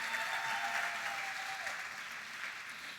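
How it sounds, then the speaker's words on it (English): A pageant audience gives sustained, even applause after a round of competition, with a faint tone running briefly through the clapping. "Well, nice round of applause for that phase of competition."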